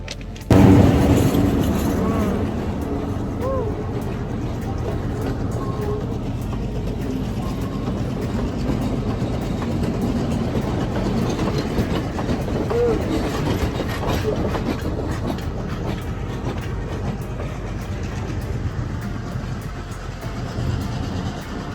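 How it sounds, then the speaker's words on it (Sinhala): A train rumbles steadily and loudly across the Nine Arch Bridge near Ella, Sri Lanka, for a long stretch, with a low continuous roar and faint rhythmic clatter of wheels. "දැන් කෝච්චියක් එනවා ඇල්ලේ 9 notch පාලමුඩ අපි ඉන්නේ"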